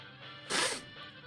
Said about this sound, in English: I keep sneezing.